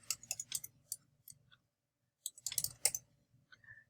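Quiet computer keyboard typing comes in two short bursts of rapid, light key clicks separated by a brief pause, close and faint with no other sound.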